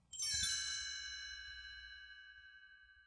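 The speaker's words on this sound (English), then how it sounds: "You'll know it's time to turn the page when Tinker Bell rings her little bells like" A single small bell sounds once as a Tinker Bell page-turn signal on a vintage Disney read-along record, a bright clear ding whose tone rings on and fades slowly over a few seconds with no voices.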